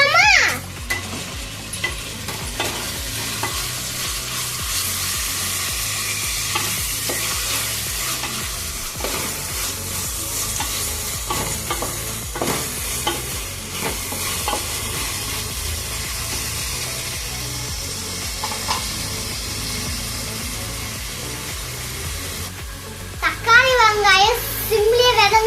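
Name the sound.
sautéing onions and tomatoes with salt in a pan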